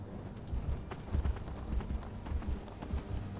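A horse gallops in Skyrim, its hooves thudding in a quick, irregular beat of heavy low clops, close and continuous over soft game ambience.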